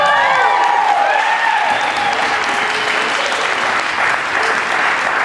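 An audience at a youth poetry slam event in Oregon bursts into sustained, loud applause that fills the room steadily for several seconds, with faint tonal sounds early on.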